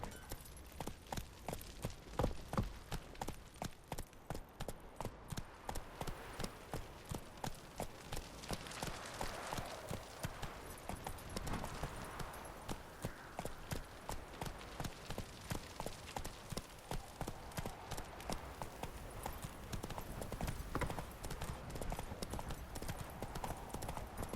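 Horse hooves galloping in The Witcher 3 video game, a fast, steady clip-clop rhythm of repeated hoofbeats running continuously and fairly quietly throughout.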